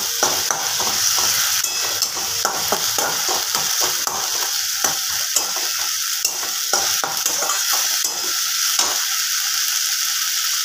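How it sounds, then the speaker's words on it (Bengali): Spices for an egg curry fry in a pan on raised gas heat, a bright continuous sizzle broken by rhythmic scraping and clicking strokes of a spatula stirring, close and steady without talk. "গ্যাসটা একটু বাড়িয়ে দেব আর এগুলো একটুখানি কষে নেব।"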